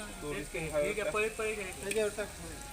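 Vegetables being sautéed with masala and a little turmeric for veg biryani, with a soft sizzle and stirring in the pan beneath a person talking throughout.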